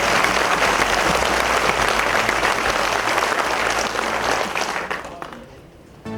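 Loud, dense applause from a large crowd at a railway workers' gratitude ceremony, sustained for about five seconds before tapering off abruptly.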